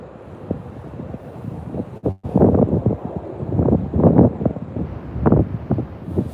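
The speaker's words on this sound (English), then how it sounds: "covered in waves." Sea waves wash over rocks outdoors, rough surging bursts that rise and fall irregularly with heavy wind buffeting on the microphone, loud and close.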